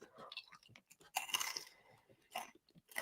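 Crunchy maize-type snacks are chewed close to the microphone, with irregular crisp crunches and bites, separated by short pauses and soft mouth noises.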